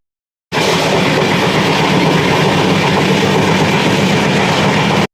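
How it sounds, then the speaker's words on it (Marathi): An AC passenger train pulls into a station: a loud, continuous rumble and rattle of wheels and carriages that cuts in abruptly and stays close and strong until it stops, with no talking. "घरी जायची ट्रेन आली"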